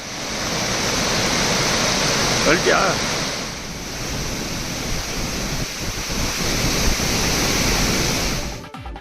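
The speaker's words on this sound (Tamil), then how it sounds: "கடும் வெள்ளப்பெருக்கால் ஒகேனக்கல் அருவிக்கு செல்லும் நடைபாதை, பிரதான அருவிகள் நீரில் மூழ்கியுள்ளன" Hogenakkal waterfall in heavy flood thunders as a loud, steady roar of falling water, continuous and broadband, with a brief voice-like trace partway through.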